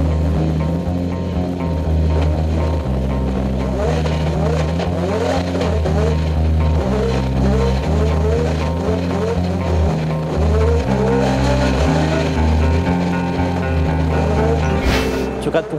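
Race cars on warm-up laps at the Trophée Andros ice racing event at Stade de France, engines revving loudly and continuously with repeated gear-change dips and occasional tire squeal, close and sustained throughout.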